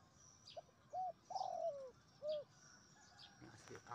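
A wild white turtle dove coos outdoors, a few soft rounded notes in a short irregular sequence, fairly faint against quiet background sounds.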